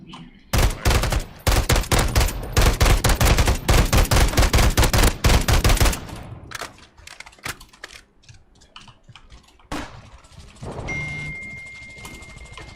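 Video game gunfire roars in a long, loud stretch of rapid automatic bursts, then drops to scattered quieter shots and clatter.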